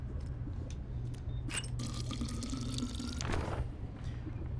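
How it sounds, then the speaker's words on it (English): Water is drawn for a chef's recipes in the video game Tails of Iron, heard as soft drips and a running, splashing trickle with a brief brighter gush midway, moderately quiet and without voices. "Freshly drawn water."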